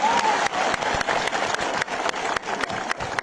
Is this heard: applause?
yes